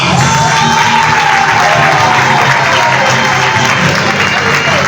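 Applause and crowd noise at a youth book fair reading contest in Libreville as the eight contestants are presented, a loud, continuous roar of clapping with some cheering, close and unbroken, with voices mixed in.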